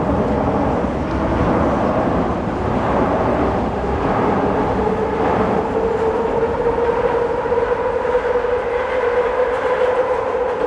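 A train rolls past at close range in the Kensington area, a steady loud rumble of railcars with a rising tonal screech toward the end, sustained for the whole stretch.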